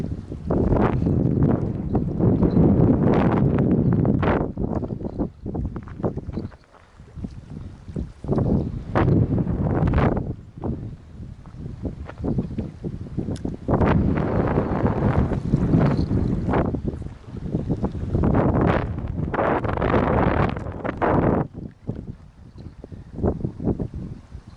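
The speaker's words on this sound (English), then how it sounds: "It has become windy." Strong gusts of wind buffet the microphone in loud, rumbling bursts that rise and fall repeatedly, with brief lulls between them and no voices.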